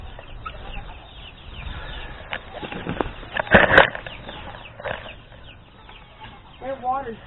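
Chickens clucking at a farm after a snowstorm, soft scattered clucks with a louder burst of flapping or squawking midway, under light background noise and brief voices.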